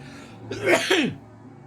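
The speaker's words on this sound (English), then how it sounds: "I'm going to sneeze, excuse me." One sharp, close sneeze bursting out over a quiet background.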